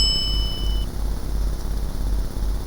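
A notification bell ding sounds once at the start, bright and ringing briefly before fading out into a steady low hum.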